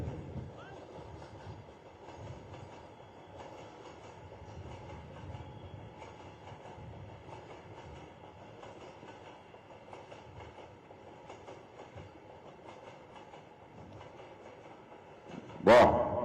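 A passing metro train rumbles and clatters steadily along the rails, a sustained mid-distance roar with a sharp squeal of wheels near the end; faint voices sit under it.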